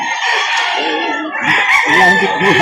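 A nine-month-old rooster at a poultry market in Lipa City, Batangas, crows loudly and close by, a long drawn-out call followed by clucking.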